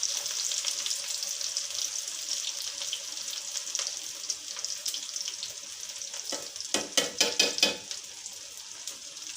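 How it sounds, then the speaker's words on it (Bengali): Onions fry in hot mustard oil, a steady bright sizzling hiss throughout, close up, with a short flurry of clattering stirring strokes near the end and no voices. "1 বাটি পেঁয়াজ আমি দিয়ে নিচ্ছি। ভেজে নিচ্ছি যেন তাড়াতাড়ি করে হয়ে যায়।"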